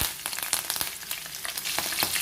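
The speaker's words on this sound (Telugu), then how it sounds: "ఈ వేడికి ఇవి లైట్గా వేగిపోతాయి" Green chillies and curry leaves frying in hot oil after the stove is switched off, crackling with bursts of sharp pops over a continuous sizzle, close and fairly loud, no talking.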